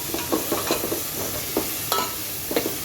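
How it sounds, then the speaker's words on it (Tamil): Chicken biryani masala stirred and sizzling in a pan, with a steady frying hiss broken by repeated scraping strokes of the spoon, close and fairly loud, no voices. "போட்டு நல்லா கிண்டிக்கலாம்."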